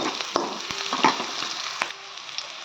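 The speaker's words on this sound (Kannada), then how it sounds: "ಈಗ ಈರುಳ್ಳಿ ಹಾಕ್ಕೊಳ್ಳೋಣ." Onions sizzling and frying in a pan while cabbage rasam is made, a soft steady crackle with a few sharp stirring clicks, fairly quiet and with no talking.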